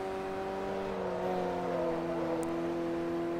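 A steady, high-pitched race car engine whine in Forza Motorsport 3 holds a constant tone throughout, moderately loud and uninterrupted.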